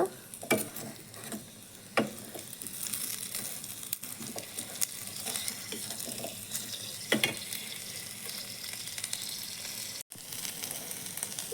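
Tapioca tempering with coriander powder is stirred in a pan, a soft continuous sizzle broken by periodic scraping strokes of a spoon against the metal, fairly quiet and close.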